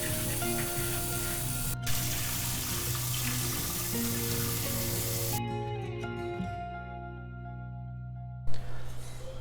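Water runs steadily over a clay pot as it is rinsed and scrubbed with a plain scrubber, a continuous close splashing hiss that cuts off near the end, followed by a brief knock.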